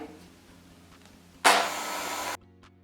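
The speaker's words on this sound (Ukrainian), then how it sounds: "До стійкості збили білки, додаємо цукор поступово. Збиваємо далі." An electric mixer whips egg whites with sugar for a layered Ukrainian cake, a loud whirring burst of about a second that cuts in and stops abruptly against a quiet kitchen.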